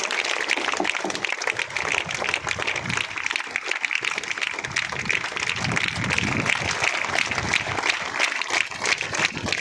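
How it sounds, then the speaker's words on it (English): Audience applause fills a school stage event as a group of students comes up to receive recognition, a dense, steady clapping that carries on for the full stretch without a break. "Give them huge round of applause."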